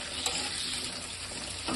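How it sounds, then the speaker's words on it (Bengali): Pointed gourd (potol) frying in hot oil in a wok, a steady close sizzle with faint stirring running throughout and no talk. "ভেজে নেবো পটলটাকে। কড়াতে তেল গরম হয়ে গেছে, তো আমি একটু দিয়ে দিচ্ছি।"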